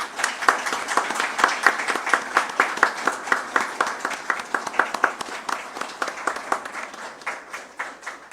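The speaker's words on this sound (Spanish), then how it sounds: "es apropiado brindar un aplauso" An audience at a seminary graduation ceremony gives a sustained round of applause. Many hands clap steadily and loudly for about eight seconds, with individual claps standing out now and then and no one speaking.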